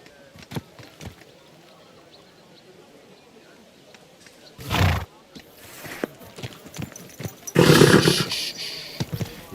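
A horse in the game Kingdom Come Deliverance 2 gives a loud snorting neigh amid scattered hoof clops, with a voice speaking briefly nearby.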